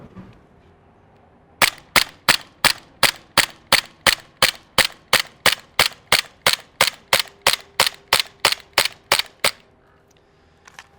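A Sig Sauer P229 airsoft pistol running on green gas fires a full magazine of 0.20 g pellets: about twenty sharp, evenly spaced cracks in rapid succession, loud and close, then stopping.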